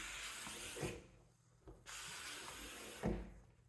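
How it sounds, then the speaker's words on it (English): A squeegee attachment on a BISSELL SteamShot Deluxe steam cleaner wipes across a glass window, making soft rubbery swishing and rubbing strokes with brief squeaks, close and quiet with no talk. "Now we have the squeegee attachment installed right here. We're gonna clean our window."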